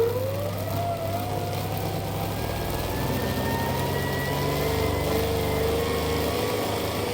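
An electric motor spins a G414 alternator from an M72, K750, Dnepr or Ural motorcycle on a test setup, making a continuous whirring hum with a slowly rising pitch, steady and fairly loud with no talking.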